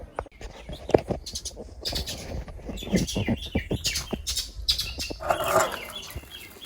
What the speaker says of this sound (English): Birds them sound so nice